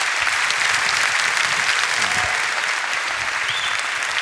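Loud, sustained applause from a large audience for Brian Greene and Richard Dawkins at the close of a science and religion discussion, a thick continuous roar of clapping.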